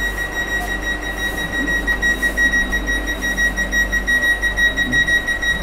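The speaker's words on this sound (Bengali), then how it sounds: "ডোর ক্লোজ হতে চলেছে আমাদের" A loud, steady electronic door-closing warning tone sounds aboard a Vande Bharat express halted at Bolpur Shantiniketan station, a sustained high beeping over a constant train hum.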